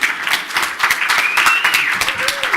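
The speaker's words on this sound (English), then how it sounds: "Give me a round of applause," A conference audience at the gTLD Strategy Congress in London, 2013, breaks into dense, lively applause with many hands clapping close and loud, plus a brief rising whistle and cheer partway through.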